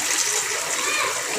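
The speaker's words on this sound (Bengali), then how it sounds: "এখন পানি দিয়ে দেবো।" Water poured into a cooking pot of bottle gourd curry makes a steady, close splashing rush that holds for the whole brief moment.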